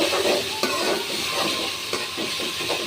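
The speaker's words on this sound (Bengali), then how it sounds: "আর আদা বাটা এই চেনাটা এখন দিয়ে নিব এইগুলো একটু কষানোর পরে তারপর আমি মাংসটা দেব" Ginger paste with onion and garlic pastes and spices frying in a pan before meat goes in: a close, continuous sizzle under repeated scraping strokes of a spoon.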